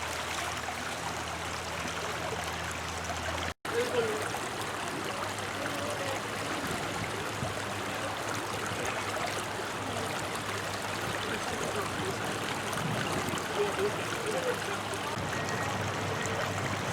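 Steady stream water flows and trickles as leaves are rinsed in a bucket during an outdoor macroinvertebrate sampling lab, a continuous broadband wash with a brief gap early on.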